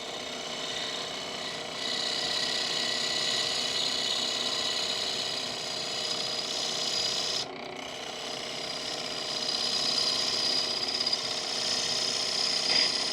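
A small 3/8 bowl gouge with a 40/40 grind shears across a spinning bowl on a woodturning lathe, giving a steady, rough hissing scrape that runs continuously with a brief break midway and no talk.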